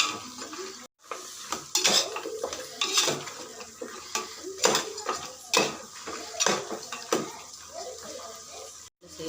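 Mutton biryani being stirred in a pot after biryani masala goes in: a spoon scrapes and clatters against the metal in irregular bursts, close and moderately loud, with a faint sizzle underneath.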